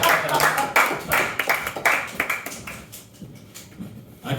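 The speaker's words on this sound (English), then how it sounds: "applause, everybody" Audience applause at a live comedy show, bursts of hand clapping that start fairly full, then thin out and fade into scattered claps.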